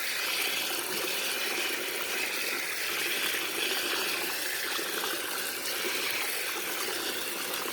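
Split mung beans being washed by hand, water sloshing and trickling continuously at close range, soft and steady with no talking.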